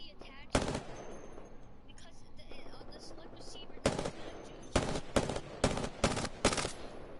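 A video game gun fires in burst mode: a single loud report, then after a pause several tight clusters of rapid shots in quick succession, close and punchy over quieter game sounds and faint voices.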